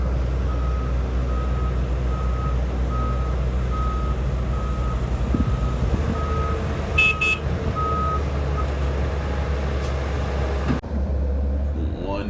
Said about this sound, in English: One truck leaves, the next one rolls in.